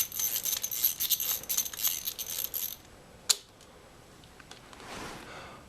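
A ratchet turning a 10mm socket to remove the starter clutch retainer on a Honda twin such as the CL450, CB450, CB350 or CL350, heard as a close run of quick metallic clicks and rattles, then a single sharp tick and quiet.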